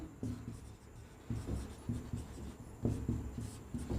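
Pen or chalk writing out a trigonometry solution for a tower-height problem, heard as short scratchy strokes in irregular bursts, close and fairly quiet, with no talking.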